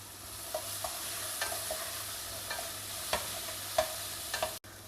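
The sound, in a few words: stir-frying chickpea and dal sundal in a pan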